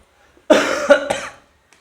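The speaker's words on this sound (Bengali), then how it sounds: "আবার কাশি হয়ে গেল" A single close, loud cough rings out indoors in a short burst of two or three rough pulses, then quiet.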